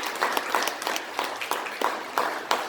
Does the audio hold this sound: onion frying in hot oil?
no